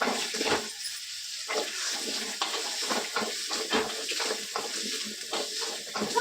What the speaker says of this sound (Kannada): ಎಣ್ಣೆ ಹಾಕೊಂಡು ಚೆನ್ನಾಗಿ ಈರುಳ್ಳಿನ ಫ್ರೈ ಮಾಡ್ಕೊಳ್ಳೋಣ.